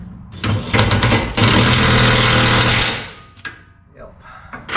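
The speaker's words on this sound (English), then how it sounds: "So I'm going to use the torque stick, which is at 150 pounds torque stick" Impact wrench driving a 150-pound torque stick to tighten hitch bolts on a Ford F250 6.0L Powerstroke Super Duty, heard as a loud, close, steady hammering whir lasting about two seconds after a couple of short bursts, with voices nearby.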